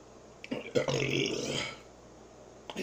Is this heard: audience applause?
no